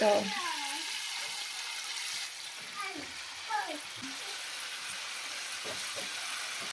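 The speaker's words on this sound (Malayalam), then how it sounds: "നല്ല ചൂടായി നമുക്ക് ഒഴിച്ചു കൊടുക്കാം അത് മുക്കാൽ ഭാഗം ഒഴിക്കാൻ പറ്റുള്ളൂ" Unniyappam batter sizzles in a hot pan as it is poured, a steady, soft frying hiss running beneath a person talking.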